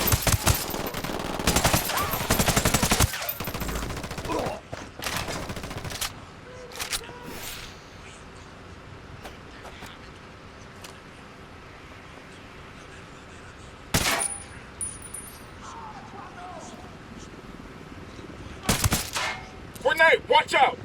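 Submachine gun fire in the video game Ghost Recon Wildlands, loud rapid bursts early on and again near the end, with quieter gaps and a few isolated sharp shots in between.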